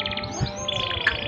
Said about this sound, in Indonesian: ini emprit saya guys, ada 2 ekor dan sangat lapar sekali ya guys